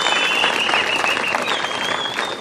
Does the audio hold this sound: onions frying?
no